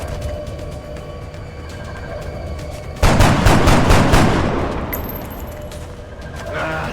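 A sudden loud burst of rapid gunfire, including a shotgun, erupts midway through a combat mission in the video game XCOM Enemy Within, then tapers off into quieter game ambience with a faint tone at the end.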